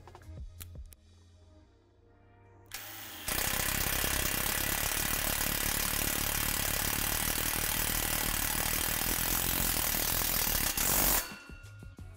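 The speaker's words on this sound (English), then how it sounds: "Insert the self-tapping screw through the hole in the back of the pole." Power driver sinking a self-tapping screw into a metal basketball pole, starting with a few brief bursts, then one loud, steady grinding whir for about eight seconds before it stops, with no voices.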